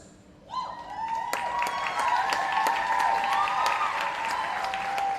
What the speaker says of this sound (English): So I want you to applaud the sponsors.